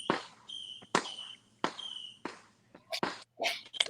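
Fireworks go off around a Dallas neighbourhood on Juneteenth, a series of sharp cracking pops in an uneven rhythm, some echoing, several bursts clustered near the end, heard faintly at a distance.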